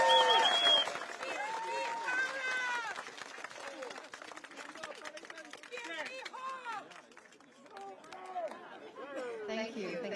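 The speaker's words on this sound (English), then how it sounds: "Means a lot that you cheer for us." A crowd at an outdoor Progress Singapore Party election rally for the Marymount constituency in GE2025 cheers and applauds, with many voices whooping and calling over scattered clapping.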